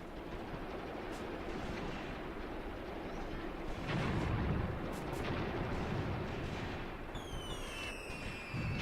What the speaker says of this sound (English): That's my artillery.